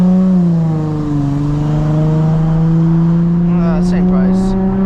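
A Nissan 350Z engine hums steadily while cruising along a coastal road, a close, continuous tone with slight shifts in pitch and a brief squeak near the end.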